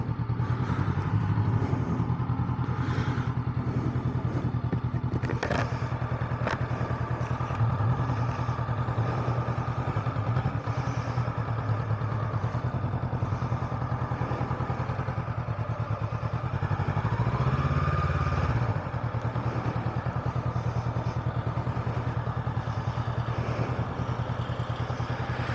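A parked motorcycle's engine runs steadily through the whole stretch at a busy closed-off spot near St. Mathew's at Maqluba, a continuous low drone with occasional clatter and thumps on top, no talking.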